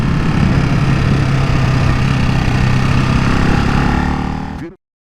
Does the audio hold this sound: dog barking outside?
no